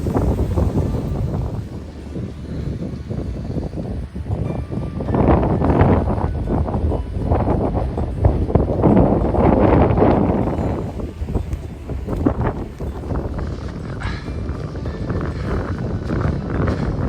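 Wind gusting across an exposed mountainside at Ffynnon Lloer in the Ogwen Valley, buffeting the microphone with a steady, loud rushing roar that surges and eases over the whole stretch, with no voices.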